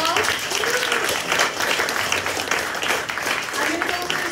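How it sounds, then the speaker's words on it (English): Steady audience applause after a panel Q&A event, continuous and fairly loud, with cheering and voices mixed in. "Yes, claps to y'all."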